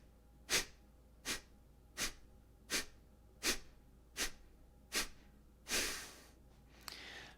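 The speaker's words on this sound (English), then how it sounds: "So that's Kapalabhati" Kapalabhati yoga breathing, demonstrated as a series of sharp, forceful nasal exhales. Seven evenly spaced puffs come close and clear, followed by a longer breathy release, against a quiet background.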